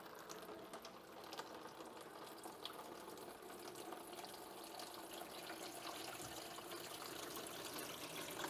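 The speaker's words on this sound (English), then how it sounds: "Flush that out with just a continuous stream of fresh water." Continuous stream of fresh water flushing through a Renault Clio PCV part after degreasing, a faint, steady hiss and splash running throughout without pause.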